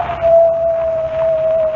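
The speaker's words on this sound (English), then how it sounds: "When the coyote howls 3 times, I die." A coyote howl in a 1940 Superman radio drama: one long, steady, sustained howl, fairly loud and even in pitch, over a faint low background hum.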